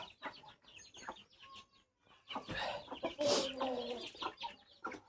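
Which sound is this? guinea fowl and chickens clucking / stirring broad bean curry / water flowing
guinea fowl and chickens clucking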